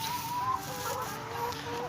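Egg-laying hens on a farm cluck and call, several overlapping bird voices at moderate distance over a steady background hum, with faint talk mixed in.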